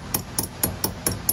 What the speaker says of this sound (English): Just hammer it back a little bit.